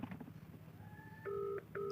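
A phone dials out to place a video call, sounding two short electronic keypad tones near the end over a faint, low room hum.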